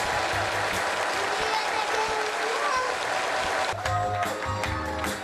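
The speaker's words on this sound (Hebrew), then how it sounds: "מחיאות כפיים שלכם" An audience breaks into loud, sustained applause at a gathering honouring a rabbi, dense clapping that fills the whole stretch with a slight swell near the end.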